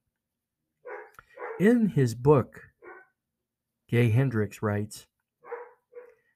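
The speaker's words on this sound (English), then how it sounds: "You can hear my dog barking," A dog barks in short bursts while someone speaks in the foreground. The barks are mixed in with and partly under his voice.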